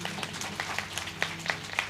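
A few listeners at a devotional religious discourse give sparse, faint, irregular claps, quiet and somewhat distant, lasting only a couple of seconds.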